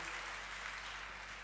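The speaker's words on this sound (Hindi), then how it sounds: "मसीह की जोरदार ताली बजाएं इस सुंदर भजन के लिए" Loud, dense applause for a hymn sung at a church gathering, a steady continuous clapping that fills the whole moment with no pauses.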